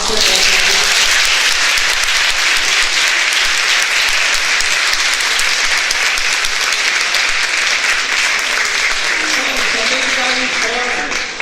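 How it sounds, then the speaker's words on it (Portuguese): Long, strong applause from an auditorium audience at an academic rural-studies meeting in Brazil, honoring a professor; many hands clap steadily and loudly throughout, with faint voices beneath near the end. "a gente vai dar uma salva de palmas para o professor"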